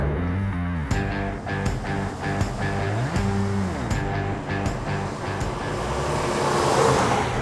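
Dodge Power Wagon engine rumbling steadily while driving, with repeated gear-shift pulses and rising revs, close and moderately loud, fading into road and wind noise toward the end.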